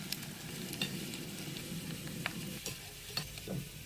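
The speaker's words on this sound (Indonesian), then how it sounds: "goreng tempe hingga kering dan kecoklatan" Tempeh fries in hot oil, a steady soft sizzle broken by scattered pops and the occasional scrape of stirring, close and moderately quiet with no voices.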